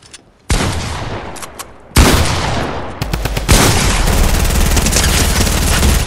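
Drum gun in a video game firing long, loud, continuous bursts with a brief pause between them, the rapid shots close and dominant and no talking over them.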